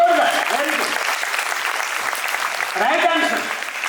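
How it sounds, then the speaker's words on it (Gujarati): Audience applause at a Gujarati talk on addiction-free living, a steady broadband clapping that fills the whole stretch, with a voice speaking over it near the start and again near the end. "જોરદાર તાળી, જોરદાર."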